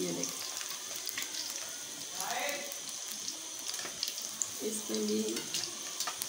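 Kebabs of minced meat sizzle and crackle in hot oil in a pan on a gas stove, a steady low frying hiss throughout, while a person speaks briefly over it.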